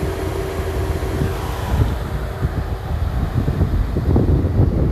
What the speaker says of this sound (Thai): ตรงเนี้ยเขาจะดูดลมเข้าไประบายความร้อนนะครับจะได้ยินเสียง พัดลมนะครับ